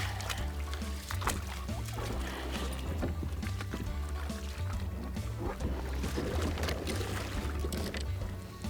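A kayak is dragged over a shallow shoal in a small creek, with scraping hull knocks, gurgling and splashing water in irregular bursts close up, no voices.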